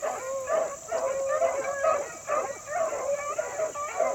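Beagles on a rabbit hunt bay and howl in repeated overlapping cries, a pack sounding at moderate distance outdoors with a steady high insect-like hum behind.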